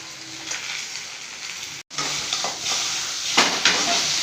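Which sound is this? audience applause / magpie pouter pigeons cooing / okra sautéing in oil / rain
okra sautéing in oil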